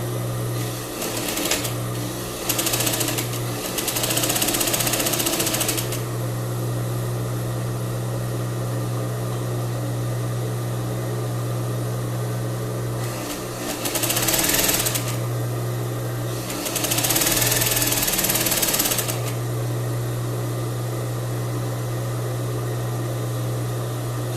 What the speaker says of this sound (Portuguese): Costurei aqui uma lateral, agora eu vou costurar a outra.